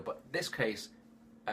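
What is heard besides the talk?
No everyday noise stands out behind the speech.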